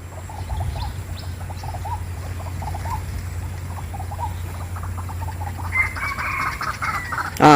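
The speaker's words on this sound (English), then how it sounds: "Ah, that is a rooster." A rooster crows in the distance by a pond near an old railway track area in Singapore, faint above steady low outdoor rumble, with small clucks and a louder call near the end.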